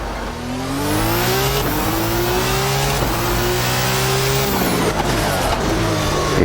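Formula 2 race car in F1 2019 on the Baku street circuit, engine howling loud and close with rising and falling gear pitches, a thin tire squeal from locked brakes riding above it.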